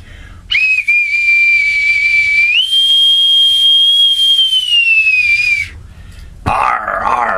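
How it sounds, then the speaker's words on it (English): An authentic bosun's whistle is piped in a long, shrill sustained note that rises in pitch midway and then tapers off, followed by a brief burst of other noise at the end. "I will pipe aboard my co-host and mentor and the founder of Newsletter Censored in 1977 with my authentic bosun's whistle"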